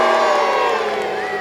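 A crowd of spectators at a castle jousting tournament bursts into loud cheering and whooping, a dense roar of voices with shouts and children's cries that fades slightly toward the end.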